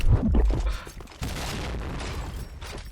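Shotgun blasts in PUBG, played with a shotgun the player says is overpowered: a loud burst of booming shots close up at the start, then a denser rumble of gunfire that carries on under the action.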